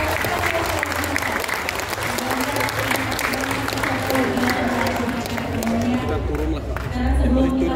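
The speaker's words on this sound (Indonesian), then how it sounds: "Kita berikan tepuk tangan yang meriah." Audience applause at a political campus dialogue event with a 2024 Indonesian presidential candidate, a steady wash of clapping from a large crowd lasting throughout, with a low hum and faint voices underneath.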